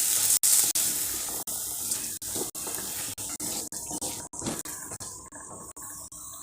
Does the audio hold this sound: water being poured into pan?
yes